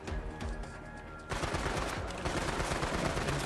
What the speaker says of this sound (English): Oh, he's firing.